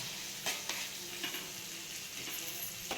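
Garlic and green chilies roasting in a pan for a rustic village-style chutney, a steady soft sizzle broken by several brief scraping stir strokes, close and alone with no talk.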